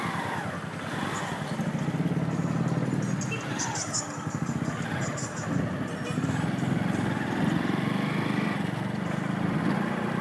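A 2016 Honda Fan 160 motorcycle engine drones steadily and close by during a test ride, with a continuous low hum and a brief dip in intensity partway through.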